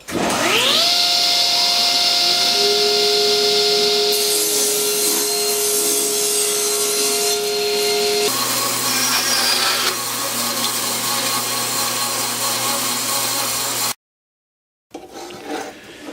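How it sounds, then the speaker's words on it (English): A loud power saw whines steadily as it rips through a small piece of oak, the pitch dropping under load, then briefly cuts out before starting again. "Here I'm just going to rip a small piece of oak."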